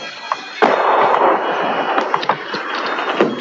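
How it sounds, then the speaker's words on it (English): Sharp, booming blasts of distant incoming artillery fire from Argentine batteries around Stanley crack over a steady rumbling background, several irregular reports in quick succession. "More incoming gunfire from Argentine batteries around Stanley, keeping everybody's heads down."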